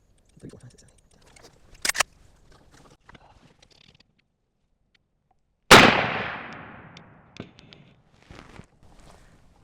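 A single sharp, loud shot from a Marlin 30AW lever-action rifle in .30-30 Winchester, fired at a 100-yard target, with a long decaying echo, preceded by quiet handling clicks and rustling.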